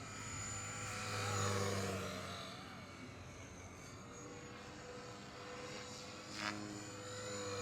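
A Blade Eclipse 360 RC helicopter flies fast overhead, its high rotor and motor whine steady and fairly loud, swelling and fading as it passes through maneuvers.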